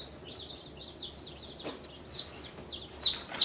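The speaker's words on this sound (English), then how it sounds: "Just release the chicken" Day-old chicks cheep and peep as they are released one by one, a string of high, thin chirps rising at intervals and growing louder toward the end, with no talking.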